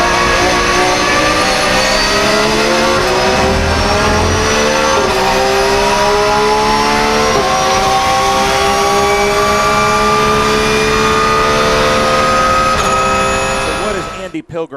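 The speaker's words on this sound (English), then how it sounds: "Pilgrim right there in that red Ferrari in this long straight" Race cars including a red Ferrari roaring down a long straight at Sebring, loud engines howling and shifting pitch as they pass close by, with commentary running over the noise.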